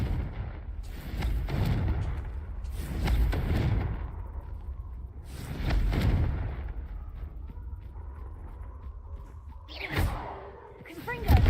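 Confringo fire spells cast in Hogwarts Legacy, a series of heavy booming blasts with whooshing tails repeating every few seconds, loud and close, with a sharp crackling burst near the end.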